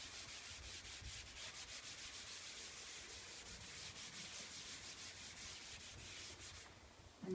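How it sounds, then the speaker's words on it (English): A rag rubs chalk pastel into paper in quick, even back-and-forth strokes, a faint, dry scuffing heard close up with no other sound. "I've got a rag here, I'm going to rub it in"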